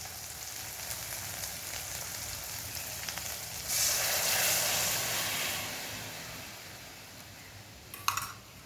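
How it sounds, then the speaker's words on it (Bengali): Milk poured into a sizzling, fried spice paste for prawn malai curry, a steady close frying hiss that swells into a louder burst of sizzle mid-way, then eases back, with a brief sharp clink near the end. "মশলা কষানো হয়ে গেছে, এবারে আমি দুধটা দিয়ে দেব।"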